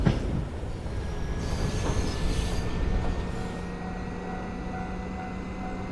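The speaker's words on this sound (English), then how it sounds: "This is definitely more like a tube train." A tube-style commuter train in a snowy railway simulation runs steadily with a continuous rumble, a faint rising whine and light wheel squeal, no talking.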